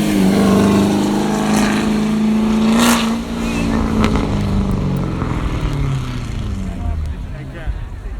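A 2017 Corvette in a rolling exhaust contest at Carlisle rumbles past with a loud, steady low exhaust drone that rises briefly then fades slightly, crowd noise and talk mixed underneath.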